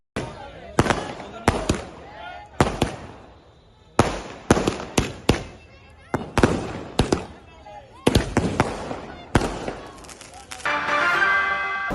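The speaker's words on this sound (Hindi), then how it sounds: "GHMC दफ्तर के पास पटाखे जलाते हुए जश्न मनाया गया" Firecrackers set off near a municipal office at a celebration, sharp crackling bursts in rapid irregular clusters with short gaps between, loud and nearby, ending in a denser fizzing crackle.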